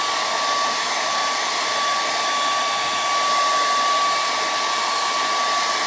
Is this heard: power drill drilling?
no